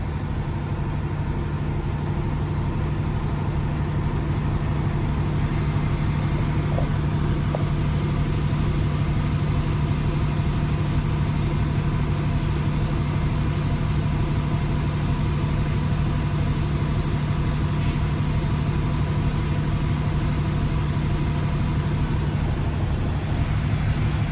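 A Swift truck's engine runs steadily to build air brake pressure, a constant low, rumbling drone that stays level and unbroken throughout, alone without speech.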